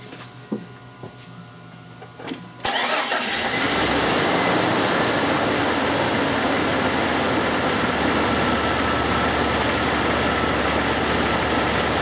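A Chrysler, Dodge or Jeep with a large EVAP leak (P0455) cranks and catches about 2.5 seconds in, after a few faint clicks, then settles into a steady, close, loud engine idle that runs unbroken to the end with no talking.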